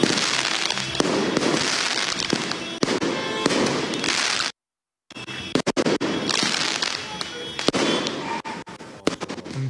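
Dense fireworks go off near a political party headquarters during a street celebration in Peja, with loud, continuous crackling and popping bursts, a brief silent gap midway, then the barrage resuming just as intensely.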